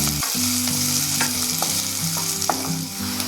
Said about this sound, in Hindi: अब हम प्याज को फ्राई करेंगे जब तक ये थोड़े से गोल्डन ना हो जाए